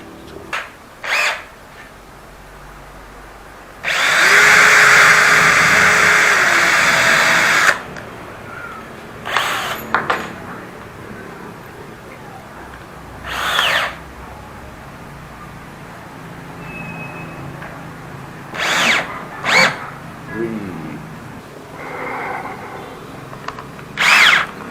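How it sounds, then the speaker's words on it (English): A power drill drives screws into a hardwood window frame. It opens with one long, loud whirring run, followed by several short bursts and scattered handling knocks in a quiet workshop. "I'm going to drill them and screw them."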